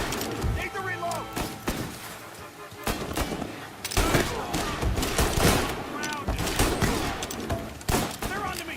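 Gunfire in Mafia: The Definitive Edition rings out in bursts of sharp shots amid a tense shootout, mixed with shouting voices and an intense game score.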